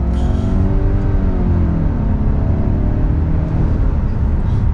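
A 2020 Subaru Legacy XT turbo accelerating, a steady loud engine drone from inside the car rising gradually in pitch with no talk.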